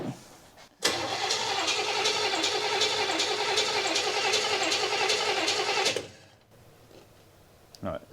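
A 1965 El Camino engine cranks briefly and catches, running at a loud, steady rev for about five seconds before cutting off, with brief sounds from the people nearby afterward.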